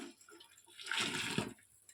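Very hot, freshly boiled water is poured over a gas stove during cleaning, a faint trickle swelling into a fuller splashing gush midway before tapering off again.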